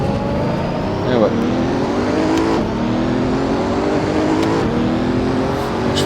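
A Bugatti Chiron in the racing game Assetto Corsa VR accelerates hard, its engine note climbing through repeated rising sweeps with brief drops at gear changes, loud and continuous.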